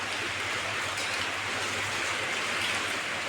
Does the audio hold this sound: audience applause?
no